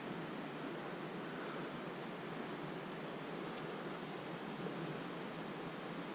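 A small waterfall near the Great Sierra Mine in the Mono County Sierra Nevada rushes steadily, a soft, continuous hiss heard from some distance with no voices.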